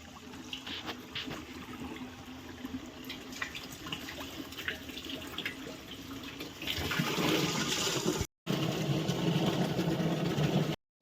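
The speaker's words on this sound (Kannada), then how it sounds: "ನಮ್ಮ ಅಕ್ಕ ನೀರು ತುಂಬಾತಾಳೆ." Water filling at a grandmother's house during a summer family visit, a steady broadband rush that grows louder and denser partway through, continuous with two brief cuts near the end and no talk.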